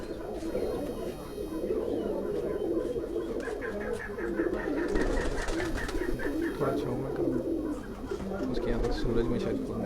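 A pigeon coos softly and repeatedly among other birds in a Quetta pigeon fancier's loft, the low rolling calls running under someone talking close by.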